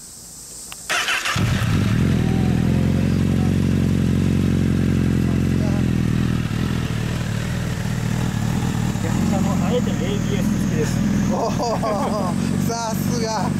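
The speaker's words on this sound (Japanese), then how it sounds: "すみません、エンジン音聞かせていただけますか。" A 2014 Honda CBR1000RR Fireblade SC59 with a TSR exhaust starts up and settles into a loud, close, throbbing idle with occasional light revs, while people talk nearby over the engine.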